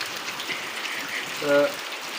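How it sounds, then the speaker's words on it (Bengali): Steady rain patters softly and continuously, with a brief tonal beep briefly sounding over it. "বৃষ্টি পড়তেছে"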